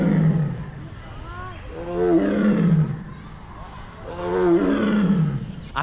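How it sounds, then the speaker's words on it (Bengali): Tiger at Alipore Zoo, Kolkata, calling from inside a netted enclosure: two or three long, deep, moaning roars rise and fall in waves, loud and fairly close, with people talking quietly underneath. "বাঘে ডাকছে, আওয়াজটা শোনো।"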